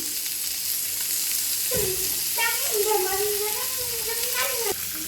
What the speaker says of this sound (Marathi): आपलं शालो फ्राय होत आहे